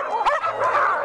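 Sled dogs on a race trail yip and bark in quick, overlapping bursts, fairly close and steady through the whole short moment.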